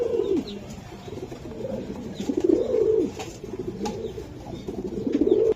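Racer pigeons at a breeder's club coo in repeated soft, throaty rolling phrases, close and fairly steady throughout, with no talking.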